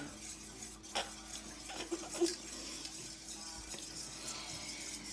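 Batter for fried Oreos is stirred in a bowl, with soft, close scraping and clinks of a utensil against the dish over a faint background hum, and no talk.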